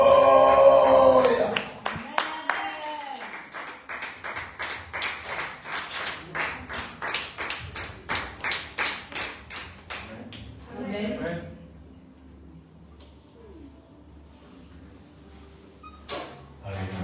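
Steady rhythmic clapping from a church congregation at a worship service in Martinique, loud and close, with voices underneath, before it fades into quieter talk and a few scattered claps.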